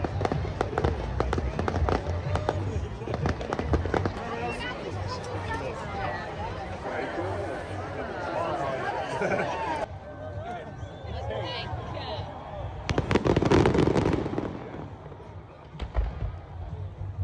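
A drone and fireworks show over a hill at the Glastonbury festival gives a dense run of sharp, distant crackling bangs, with crowd chatter throughout and a louder flurry of pops near the end.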